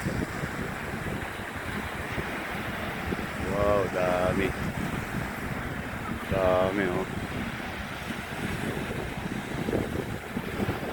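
Strong wind buffets the microphone over rolling surf at Kite Beach, Jumeirah, Dubai, with a voice speaking briefly twice amid the roar.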